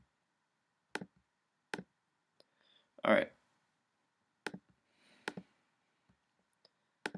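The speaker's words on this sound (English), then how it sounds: "Sorry for the annoying clicking sound." Sharp mouse clicks from a laptop during a RuneScape session, arriving as isolated taps about once a second, with a brief spoken word partway through.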